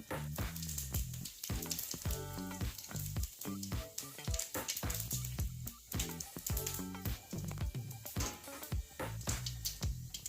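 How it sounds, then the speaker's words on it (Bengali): Panch phoron spices crackle and sizzle in hot oil in a wok, a close, busy frying noise with rapid pops and bursts throughout, no talking. "পাঁচফোড়ন দিচ্ছি কড়াই"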